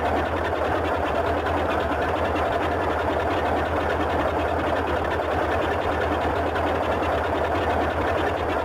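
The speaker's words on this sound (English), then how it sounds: "We'll get the ground engineer to wind up the flywheel now on the right hand engine" The inertia starter flywheel on an engine of a Boeing 247D in Microsoft Flight Simulator winds up with a steady, loud, dense mechanical whir and rattle that continues unbroken throughout.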